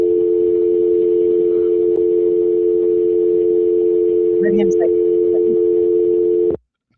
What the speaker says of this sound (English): And this is just a dial tone.